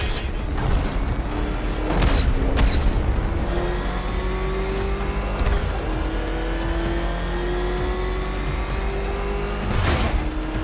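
The Batmobile's engine in Batman: Arkham Knight revs and roars steadily, loud and close, its pitch rising and falling with mechanical clanks and sharp impacts mixed in.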